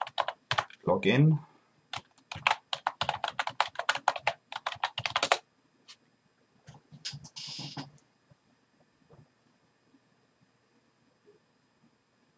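Computer keyboard keys tapped in quick bursts of clicks for about five seconds, a few scattered taps following, while a voice speaks briefly near the start.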